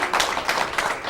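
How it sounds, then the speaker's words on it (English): A game show audience claps for a contestant named Joey, a brief burst of clapping with a few distinct surges in quick succession. "One more big round of applause for Joey"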